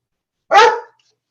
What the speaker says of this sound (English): dog, stop it.